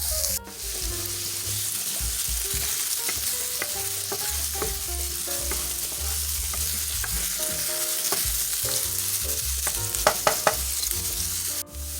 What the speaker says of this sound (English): Next, we're going to add in our onions. And we're going to let that saute for 2 minutes.